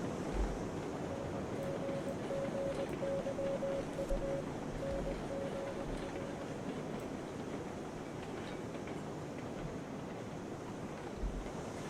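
A small steam train in the RailRoads Online game rolls along with a steady, broad rushing rumble. Faint low thumps sit under a constant wash of noise, distant and even throughout.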